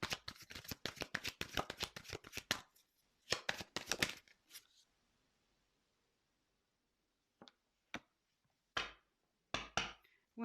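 A deck of tarot cards is shuffled with rapid riffling flicks, then goes quiet before a few soft, separate card snaps and slides are heard up close.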